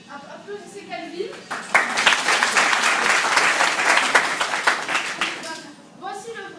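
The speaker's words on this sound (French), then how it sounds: "Applaudissez Calvin" An audience at a public wrap party in Montpellier breaks into loud, dense applause for a participant, building quickly and then tapering, with a voice talking at the start and end.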